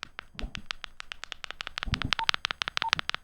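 A Harris Unity XG-100P multi-band portable radio gives off rapid, evenly spaced electronic beeps and clicks, with two brief higher tones near the end, close and fairly loud.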